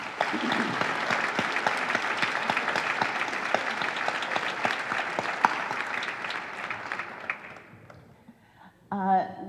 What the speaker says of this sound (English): Please help me give Louis another round of applause.